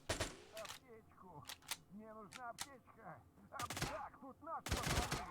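A Saiga-12K shotgun fires in a video game, rapid bursts of loud shots mixed with ringing game effects and impacts, with a pause in the middle before heavy firing resumes.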